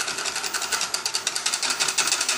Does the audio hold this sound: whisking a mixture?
yes